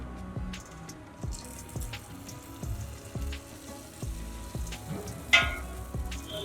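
Davanagere benne dosa cooking with oil on a hot griddle at a dosa shop, a soft sizzle broken by repeated scraping and tapping strokes at an irregular rhythm, moderately quiet with kitchen clatter around it.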